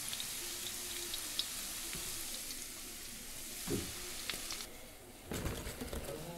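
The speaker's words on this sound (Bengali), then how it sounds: "আমি সমস্তগুলো একইভাবে ভেজে নেব।" Banana blossom bract pakoras fry in hot oil, a steady broadband sizzle running throughout with a few soft knocks and clatters near the end, no talking.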